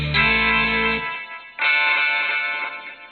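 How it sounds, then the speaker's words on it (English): A single guitar strum rings out with a distorted, effected tone, then a repeated echo of the strum follows after a short gap and fades away. "It's like a little strum with a little echo on it."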